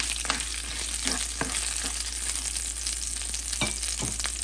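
Byadgi chillies and tamarind frying in a pan, with a steady close sizzle and crackle and a few sharper pops and stirring scrapes scattered over it.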